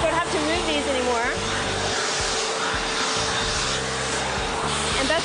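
A canister vacuum cleaner runs at home with a loud, steady whooshing roar that fills the whole stretch, while a person talks over the motor.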